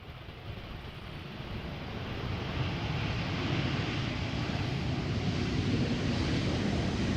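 A LOT airliner arrives at Amsterdam Schiphol Airport, its engines a broad, steady, distant roar that swells gradually and then holds level, with no talking.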